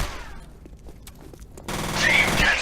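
Two pistols fired together in the shooter F.E.A.R., a rapid burst of sharp shots under a dense, loud stretch of gunfire and in-game noise that swells in the last second.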